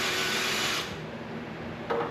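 A cordless drill driving screws into a wall display of Model T Ford parts in a shop, a steady close whir that drops in pitch partway through and then runs on.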